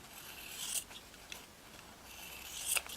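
Scissors trim around a fabric yo-yo piece, leaving a seam allowance, giving a few faint, close crisp snips and rustling cuts spaced over a quiet background.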